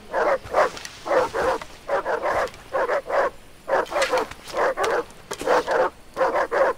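Dogs barking in the video game Far Cry 3, a rapid run of loud, evenly spaced barks and yips repeating steadily and close, with no talk over them.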